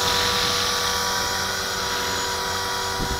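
A Walkera V450D01 RC helicopter in flight, throttle set too high, gives a loud, steady high-pitched rotor and motor whine that runs unbroken from start to end with no talking.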